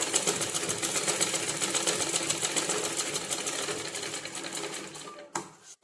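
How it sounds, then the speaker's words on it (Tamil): A sewing machine stitches a sleeve seam at a fast, steady rattle, close and continuous, then stops abruptly near the end. "திருப்பி ஒரு படிமான தையல் போட்டு எடுத்துருங்க"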